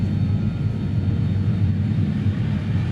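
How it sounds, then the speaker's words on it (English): The BAE 146's jet engines in Microsoft Flight Simulator 2020, heard from inside the cabin, make a loud, continuous low drone with a steady hum and no pauses. "you can hear the difference in the engines when you walk through the cabin"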